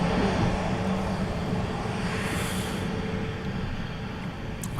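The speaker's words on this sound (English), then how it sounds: "Qatar is about to start its roll. It's just getting onto the runway now." A Qatar Airways Airbus Neo airliner at Manchester Airport moves onto the runway to begin its takeoff roll, its engines giving off a steady, loud broadband roar that holds evenly throughout.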